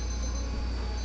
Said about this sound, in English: And there's the timer, so I better get with it here.